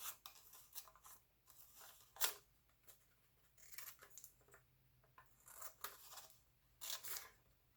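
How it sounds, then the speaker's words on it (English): Close scissors snipping paper in short irregular bursts of crisp cuts, with quiet pauses between, no talking. "I'm just going to use my scissors and cut some of those details"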